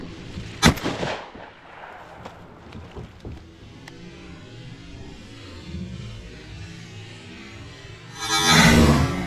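A shotgun fires during a duck hunt, one loud sharp shot near the start with fainter distant pops after, then a rustling burst near the end over quiet outdoor ambience.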